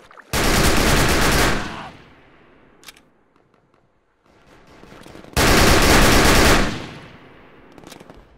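Two loud bursts of automatic gunfire in the WWII shooter Darkest Hour: Europe '44-'45, each about a second and a half long, separated by a quieter gap with a few faint distant shots.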